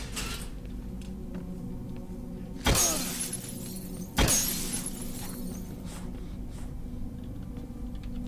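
Two sharp glass-shattering smashes a second and a half apart in the video game Condemned: Criminal Origins, each a bright crash over a low ambient hum with faint rattles between.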